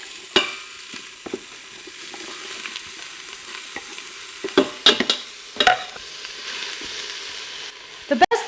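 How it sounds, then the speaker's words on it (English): Chopped onions hitting a hot Instant Pot for turkey gravy, giving a soft steady sizzle with scattered clinks and scraping stirs, close by and without talk. "throw the onions in there."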